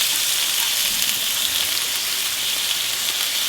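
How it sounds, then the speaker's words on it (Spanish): Chopped onion hits a hot pan with chiles for homemade pickled rajas, giving a steady, bright frying sizzle close by that holds evenly with no talk. "vamos a agregar la cebolla"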